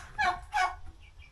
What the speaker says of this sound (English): Here we have turkey and Brahma chicken.